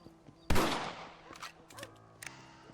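A single sharp rifle shot cracks out in Red Dead Redemption, followed by a decaying echo, a few fainter clicks and knocks, and quiet game ambience.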